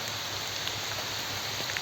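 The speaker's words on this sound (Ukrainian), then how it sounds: "Дощ лиє щосили." Heavy rain pours down in a dense, steady hiss of countless drops hitting surfaces, loud and unbroken with no voices.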